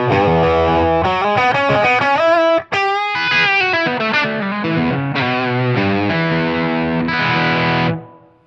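Clean electric guitar played through a BB preamp in a powered portable pedalboard amp, with no reverb: a bright, rocking riff of chords and single notes, loud and close, with a brief cut near the middle before a sustained final chord fades.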